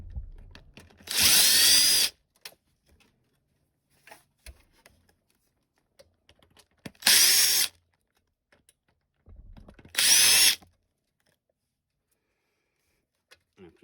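Three separate bursts of a power driver unscrewing screws from the side radio panel of a Toyota Sienna, each whirring for about a second, the first and last close together, with quiet gaps between.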